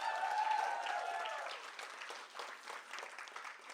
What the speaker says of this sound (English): can we applaud Su Young Yo for making these cookies?